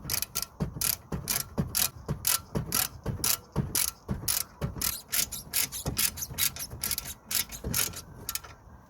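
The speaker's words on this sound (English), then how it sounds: "Just gonna screw the guide pin." A ratchet wrench tightens a brake caliper guide pin on an Audi A3 during a rear disc and pad change, giving a close, steady series of sharp clicking ratchet strokes in quick rhythm.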